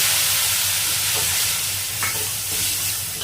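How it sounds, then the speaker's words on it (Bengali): Spice paste in water goes into a pan of fried onions and potatoes for a thin egg curry and sizzles loudly and close. A steady hissing sputter runs throughout with a few sharper crackles. "এবারে এই যে মশলার জলটা, মশলাটা ঢেলে দিচ্ছি এর মধ্যে"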